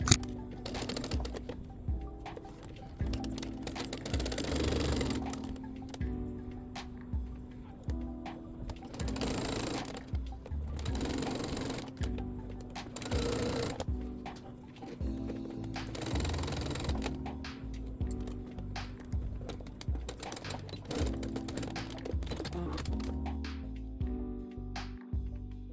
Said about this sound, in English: sew the long edges with a 1/4 of an inch